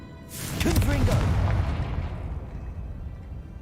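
A Confringo fire spell explodes in Hogwarts Legacy: one loud, rumbling blast with a whooshing burst that rings out and fades over a couple of seconds, with a voice briefly over the start.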